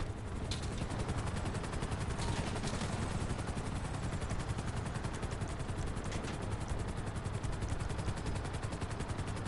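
Fireworks set off on top of the bank in GTA Online, a dense, continuous barrage of crackling bursts and pops at steady loud volume for the whole stretch, with no voices.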